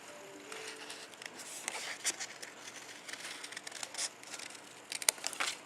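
Scissors cut out a paper heart shape for a Mother's Day card, a series of quiet close snips and paper rustles in an irregular rhythm, with no talking.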